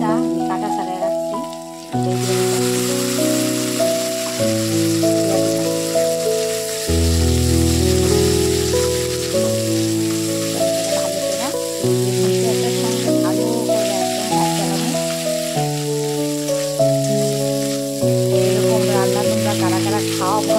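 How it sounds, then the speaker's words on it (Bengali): Dried fish hits a pan of fried onion and garlic, setting off a steady, loud sizzle that runs for about twenty seconds alongside a sustained musical background. "এবার এরপর দিয়ে দেবো মাছটা, শুকনো মাছটা রাখছি"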